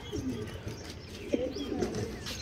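Racing pigeon cooing softly in a few low, throaty bursts, close by, with faint background noise and no talking.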